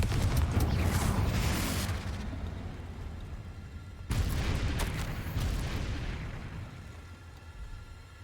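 Blasting-curse explosions cast with Confringo in the game Hogwarts Legacy: two heavy booms with rumbling tails, the second bursting in midway as the first fades, loud and without speech.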